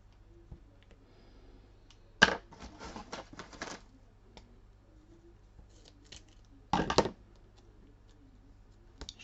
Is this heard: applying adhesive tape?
yes